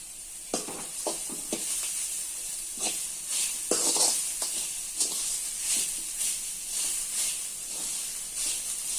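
Ponnaganti greens frying in a pan with chili powder, garlic and masala powder, a bright continuous sizzle and hiss broken by intermittent stirring scrapes, fairly close and moderately loud.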